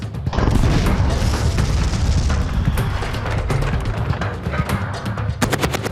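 Loud bursts of machine-gun fire crack out in rapid rolling volleys with heavy booming reports, continuing almost without pause and ending in sharp, evenly spaced single shots.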